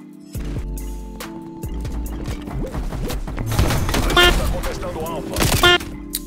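Sniper rifle shots in a first-person shooter match ring out as several sharp, loud bursts over a busy game soundscape of music and effects, while someone talks throughout.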